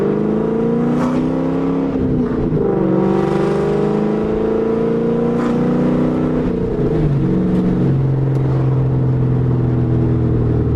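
A New Edge (1999–2004) Ford Mustang GT with 4.10 gears revs and settles through a deep, throaty exhaust, pitch rising and falling steadily up close.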